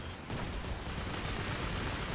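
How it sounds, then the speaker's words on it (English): Browning .50 cal machine gun fire in the video game Men of War, a sustained dense burst of rapid heavy shots that starts abruptly and rolls on without pause, fairly quiet and not under talk. "Let's take that 50 cal. Let's just open up on this light tank"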